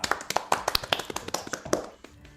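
A small audience at a Korean Lenovo HCI webinar session claps to welcome a presenter being introduced: a short burst of scattered, distinct hand claps, close and fairly light, with no talk.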